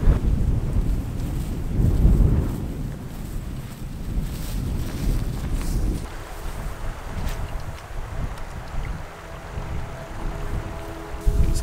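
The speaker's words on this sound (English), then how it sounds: "this wind's definitely making the casting pretty difficult" Strong wind gusts buffet the microphone beside a river while trout fishing, a steady low roar with surges, loud and continuous throughout with no talking.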